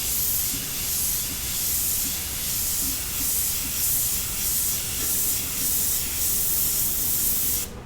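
An airbrush sprays paint onto a resin pour, giving a steady close hiss that runs unbroken for about eight seconds with slight pulsing, then cuts off at the end.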